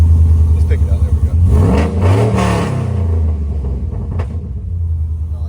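A Chevrolet Silverado V8 fitted with a TBSS intake idles with a loud, throbbing rumble, then revs up and falls back in a couple of swells before settling into a lumpy idle, with a voice talking faintly over it.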